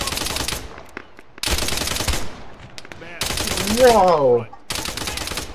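Rapid automatic gunfire in the Arma 3 military shooter, loud bursts separated by short pauses, with a voice shouting briefly amid the firing.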